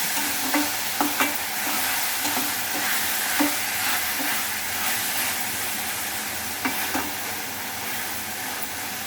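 Chopped tomatoes sauté in a pan for a peppery crab gravy, giving a continuous close sizzle and hiss broken by a few sharp clicks and scrapes of a stirring spoon.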